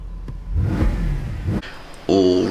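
A car engine revs and accelerates up close, rising and falling for a couple of seconds before settling into a steadier, tonal hum as the car drives along.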